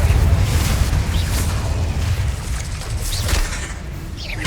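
Fiery Confringo explosion spells in Hogwarts Legacy, deep rumbling booms and bursts rolling in succession with heavy low-end weight and a few sharper crackles.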